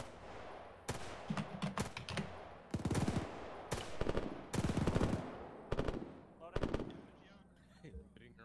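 Video game gunfire during a military operation: bursts of rapid automatic shots come in several loud, separate volleys with short pauses between them, and faint voices sit underneath.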